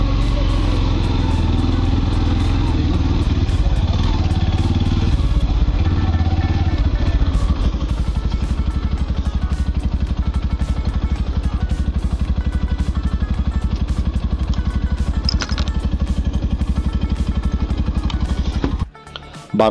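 Motorcycle engine running steadily while parking, a loud close throbbing idle with rattling clatter, cutting off just before the end.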